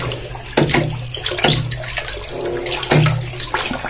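Fertilizer solution, soaked for days for kalamansi and dragon fruit, is stirred by hand in a water drum, giving about three close, wet swishing sloshes against a steady watery background.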